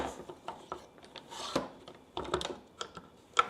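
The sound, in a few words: clamp sliding into saw track rail and being clamped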